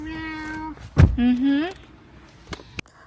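Pet cats meow at home, one long steady call followed by a rising, wavering meow, then a couple of sharp clicks and a quieter pause.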